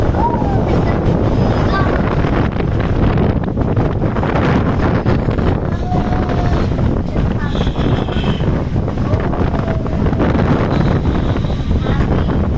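Strong wind buffets the microphone in a continuous roar on the deck of a ferry from Batangas to Calapan, over the rush of water and an engine drone, with faint voices now and then.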